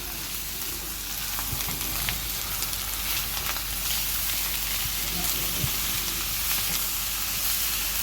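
Ground spices, bay leaf, cloves and black pepper fry in a pan with a steady close sizzle, broken by scraping stirs and soft clinks as they are turned.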